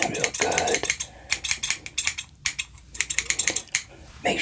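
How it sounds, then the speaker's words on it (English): Scissors snip and trim hair in a barber-shop haircut roleplay, a quick, close run of crisp metallic clicks and cuts with brief pauses, no talking. "Scissors, just to trim it up,"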